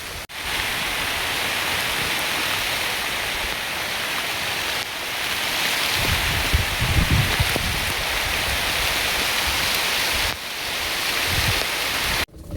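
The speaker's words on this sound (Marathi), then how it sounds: "तसं लई जोरात पाऊस आला" Heavy rain pours down in a rural farm setting. It is a dense, loud and steady roar of falling water lasting over twelve seconds. A few brief dips and a swell of low rumbling come partway through, and no voices are heard.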